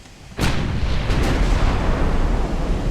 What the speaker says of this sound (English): Come on, let's get all the guns firing on this thing.